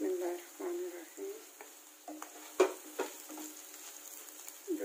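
Chicken and mushrooms fry quietly in a pan, with a soft steady sizzle and irregular scraping strokes as a spoon stirs them, heard close up.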